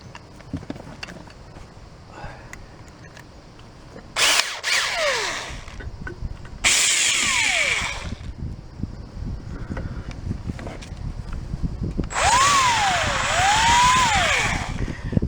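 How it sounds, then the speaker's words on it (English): A power drill bores a 1/4 inch hole, with three loud whirring bursts that rise and fall in pitch as the bit spins up, bites and slows, separated by quieter shop noise. "Now we're going to go a little bigger. I'm going to do a 1/4 inch hole."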